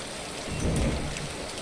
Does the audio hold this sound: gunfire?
no